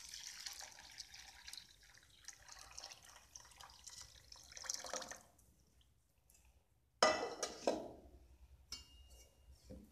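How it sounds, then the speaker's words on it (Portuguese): Water is poured into a larger baking dish for a chilled granulated tapioca cake, a soft steady trickle and splash that fades, then a brief louder splash near the end. "E agora colocar água."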